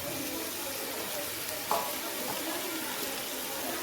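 Chopped fenugreek leaves tossed into a hot pan with turmeric and salt give a steady soft sizzle, with a brief scrape of stirring partway through, close and fairly quiet.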